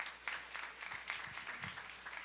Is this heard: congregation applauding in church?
yes